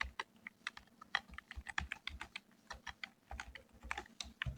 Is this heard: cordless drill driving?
no